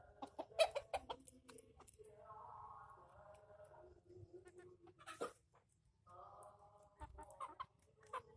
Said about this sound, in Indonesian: Dan ditemani oleh ayam-ayam.